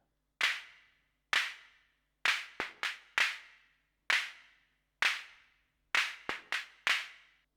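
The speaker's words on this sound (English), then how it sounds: "So I just want to listen to that clap because I think something fun is going on with it" A clap voice soloed on an Arturia Drumbrute Impact drum machine fires about a dozen sharp, bright hits with quick decaying tails, some spaced evenly and some in close doubled pairs, dry and alone.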